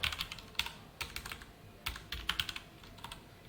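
Quick, light typing on a computer keyboard comes in short bursts of key clicks with brief pauses, close and quiet, with no voices.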